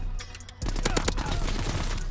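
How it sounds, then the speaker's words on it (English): ERMA EMP submachine gun in Call of Duty WW2 opens fire after a short lull, unleashing a dense, loud rapid-fire burst of shots that continues through to the end. "I like the sound of this gun."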